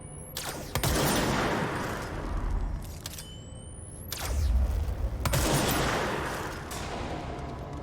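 Powerful weapon firing in the video game Control, with loud sharp shots spaced a few seconds apart, each trailed by a rumbling, crackling roar.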